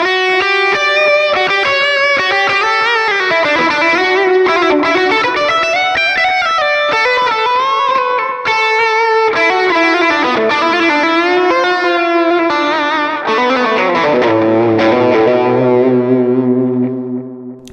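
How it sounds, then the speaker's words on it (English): An electric guitar plays a sustained, distorted lead line through a delay pedal on a pedalboard, its echoing repeats trailing each note, loud and alone, ending on a held low chord. "that very that lead sound with the delay"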